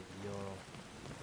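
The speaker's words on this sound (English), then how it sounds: "Oh no, it's raining." Steady rainfall in Skyrim, a faint, soft hiss of drops under a brief low hum.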